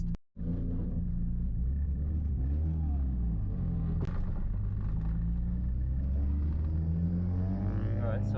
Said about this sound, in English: I'm just going to give the tyres warm and try warm up the car